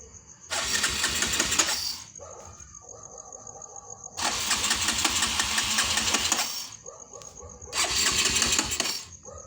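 A Kawasaki KLX 150 motorcycle engine cranks and runs in three rough, rattling bursts separated by short pauses, close by and loud, with a faint whine between bursts.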